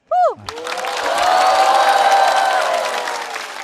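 A brief vocal shout opens, then a stand-up comedy audience breaks into loud applause and cheering that builds quickly and holds steady for several seconds.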